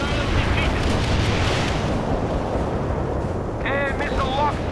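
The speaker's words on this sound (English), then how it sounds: "Firing an anti-air missile" Anti-air missile launch in the World in Conflict game, a loud sustained roaring blast of rocket exhaust and rumble filling the whole stretch, with brief radio-style voice chatter near the end.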